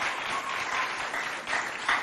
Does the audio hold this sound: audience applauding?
yes